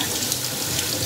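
Tap water runs steadily into a sink while rice is rinsed for vegetarian unstuffed peppers, a continuous close hiss with no talking.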